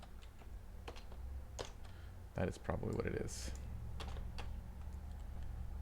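Keys clatter on a computer keyboard in short bursts and scattered clicks, close and fairly quiet, with someone speaking briefly in between.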